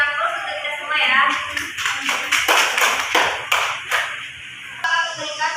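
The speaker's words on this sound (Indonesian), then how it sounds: "kita beri aplaus untuk kita semua ya" Classroom applause from a group of students in a lesson, a burst of clapping mixed with scattered taps and shuffling, with a teacher's voice heard at the start and end.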